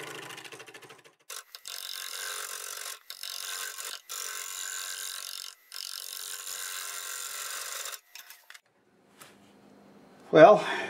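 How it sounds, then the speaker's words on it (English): Hollowing tool cutting a Siberian elm bowl on a wood lathe at about 800 RPM, a steady scraping hiss broken by several brief pauses, with a short clunk near the end. "I'm going to use my hollowing tool for that."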